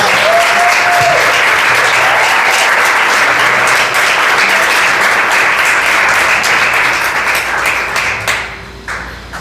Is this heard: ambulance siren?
no